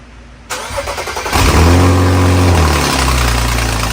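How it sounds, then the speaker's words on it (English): A BMW 335i engine with a turbo manifold exhaust leak starts and revs up, settling into a loud running roar with a raspy, puffing ticking over the drone. "just listen to how crazy that exhaust leak sounds"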